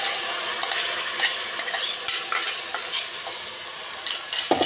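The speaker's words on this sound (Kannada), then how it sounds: "ಈಗ ಆಯಿಲ್ಗೆ ಹಾಕಿ ಫ್ರೈ ಮಾಡ್ತೇನೆ" Raw ground paste is frying in oil with onions, with a constant bright sizzle and repeated sharp scrapes and clinks as a spoon stirs the pan, growing busier toward the end.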